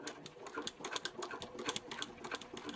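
A sewing machine runs a top stitch along a fabric edge for a composition notebook cover, with a steady quick mechanical chatter of needle strokes that is close but fairly quiet and has no talk.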